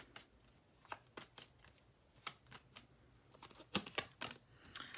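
Tarot cards are shuffled close to the microphone in a quiet room, a soft run of crisp flicks and riffles in uneven bursts with no voices over them.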